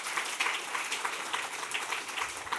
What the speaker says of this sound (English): you all can clap for him anyway